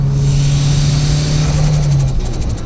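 Turbocharged Honda Fit engine running without a blow-off valve gives a loud steady drone and rushing noise with a low humming tone that stops near the end, heard close up.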